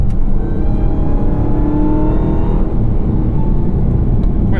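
A 2021 Dodge Charger SRT Hellcat Redeye's 6.2-liter supercharged V8 pulls hard on a country road, a loud, steady engine roar with rising whine filling the whole stretch, heard from inside the car.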